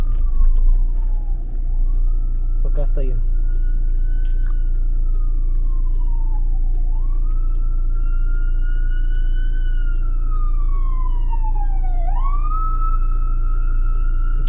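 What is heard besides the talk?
fire truck siren passing in traffic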